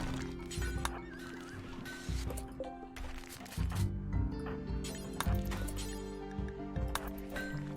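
Horses in the RimWorld game whinny loudly over steady clip-clopping hooves, with repeated neighs spread across a dense, continuous game soundscape.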